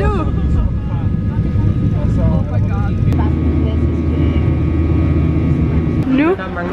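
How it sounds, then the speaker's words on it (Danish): Airplane taking off on a flight to Stockholm, a loud steady roar of engines filling the cabin throughout, with people talking over it. "nu flyver vi"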